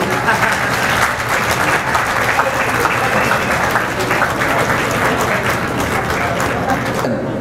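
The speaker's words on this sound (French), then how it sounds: "On l'applaudit encore une fois, s'il vous plaît, mesdames et messieurs." Sustained, even applause from an audience at a French-language book presentation and dedication ceremony, dense steady clapping that holds for several seconds before cutting off.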